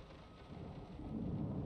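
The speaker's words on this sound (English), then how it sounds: "Storm outside." Low rumbling storm noise with steady rain-like wash, swelling louder in the second half, heard outside a house in the Layers of Fear horror game; no talk.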